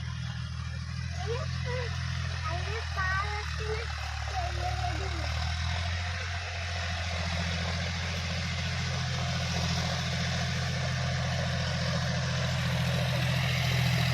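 A tractor ploughs a field in a Kerala village, its low engine droning steadily and close throughout, with faint bird calls and rustling above the rumble.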